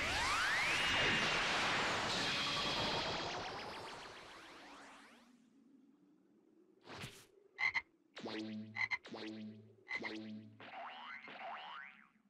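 A frog croaks in the fighting game Dragon Ball Xenoverse 2, a series of several distinct, rhythmic ribbiting croaks that follow a loud swooshing rush as it fades out, all heard without speech.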